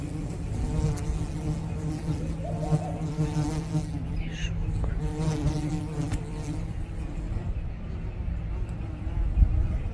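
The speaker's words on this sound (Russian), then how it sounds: "Сколько пчел." Bees and wasps buzz continuously around a garden with lavender, a close, droning hum with pitch shifts as individual insects fly near and away.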